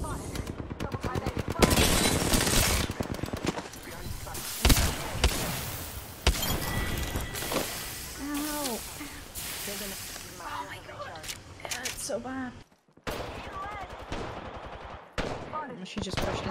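Rapid bursts of automatic gunfire from ranked Apex Legends gameplay, loud and near, mixed with repeated single shots and explosions, with players talking over the shooting throughout.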